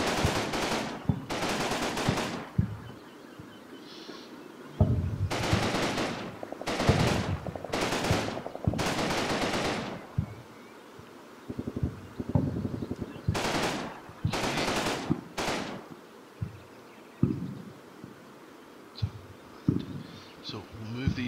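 Machine guns lay down suppressive fire in Combat Mission: Battle for Normandy, with long, loud rattling bursts repeating every second or two, separated by quieter gaps of battlefield ambience.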